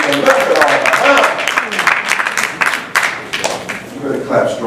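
An audience at a debate claps in a dense burst that thins toward the end, with a speaker's voice heard over and between the applause.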